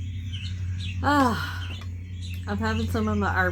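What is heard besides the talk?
birds chirping outdoors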